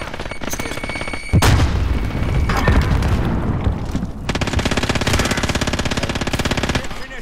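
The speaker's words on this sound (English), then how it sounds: "Grenade out!" Explosions and heavy gunfire from a video game firefight, with loud booms around the two-second mark and dense rapid automatic fire continuing throughout, close and loud over background talk.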